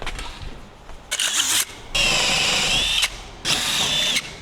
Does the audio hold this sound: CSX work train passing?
no